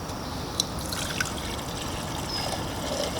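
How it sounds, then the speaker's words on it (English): A litre of water is poured into the pot of an MSR WindBurner stove, a steady close trickle with a few faint clinks, and no voices. "let's fill this up with a litre of water"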